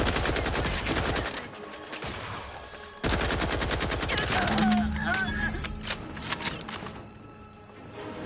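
Rapid bursts of gunfire in The Outer Worlds 2 crackle loudly and almost continuously, with a brief break near the two-second mark before the shooting resumes, layered over game effects and music.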